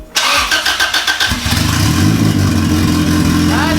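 A repaired Honda Civic EG engine cranks briefly, then catches and settles into a loud, close, steady idle with a slight rev near the end.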